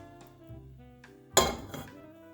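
Soft scraping and a few light metallic clinks as olive oil is spread around a skillet on the stove, close and quiet, with a sharper clatter near the end.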